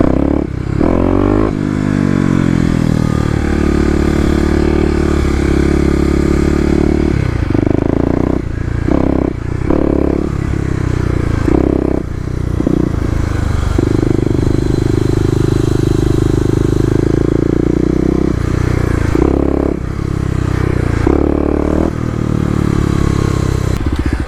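Kawasaki KLX250 dirt bike engine revving in second gear, loud and close, with repeated throttle blips that rise and drop through the clip, plus scraping and clattering from the bike.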